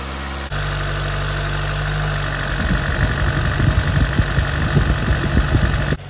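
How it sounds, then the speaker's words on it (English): A 2004 Toyota Celica GT-S engine runs with its air injection pump working: a steady, close idling hum first, then from about two and a half seconds a rough, rapid pulsing rattle that continues to the end. No one speaks. "You hear that air injection pump?"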